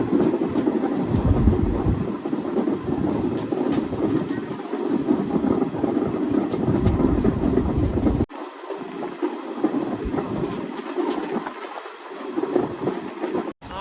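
Villupuram Intercity Express running on the line, a steady heavy rumble with clickety-clack of wheels that drops in level midway and carries on with gusty wind noise.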